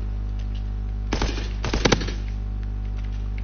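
Gunfire in a shooting video game: two short bursts of rapid shots about half a second apart, loud over a steady low electrical hum.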